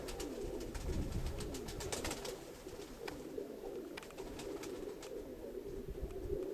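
Pigeons coo softly in a continuous murmuring chorus, with faint rustling and scattered clicks in the background.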